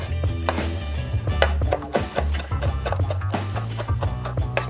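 Knife chops through onions and habaneros on a board in a home kitchen, a quick irregular run of close, crisp taps with short pauses between bursts.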